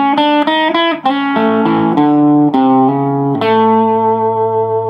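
Overdriven electric guitar plays a blues rock lick slowly on the major blues scale, several deliberate notes and slides ringing loud and close, ending on a sustained low tone.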